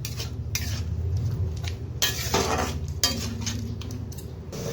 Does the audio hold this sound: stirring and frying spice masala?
yes